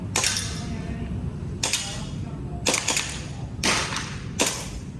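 Five sharp gunshots ring out at steel target plates during a practical shooting lesson, evenly spaced and loud with short echoing tails, over low background noise.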